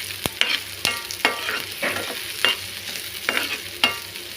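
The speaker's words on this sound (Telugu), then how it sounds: "తర్వాత క్యాబేజీ ఇవన్నీ కూడా దీనిలో వేసి ఈ వెజిటేబుల్స్ మొత్తం ఫ్రై అయ్యే వరకు వేసుకున్నాను" Cabbage, capsicum and other vegetables frying in a pan for vegetable soup, a steady sizzle broken by repeated sharp clinks and scrapes of stirring, close up.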